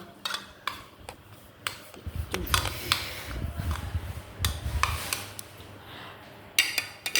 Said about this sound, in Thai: ใส่ไข่เจียวอีกนิดแล้วคนไข่เจียว